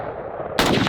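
A single sharp, loud unsuppressed shot from a Daniel Defense Mark 18 AR pistol cracks out after a low rumble, close and abrupt.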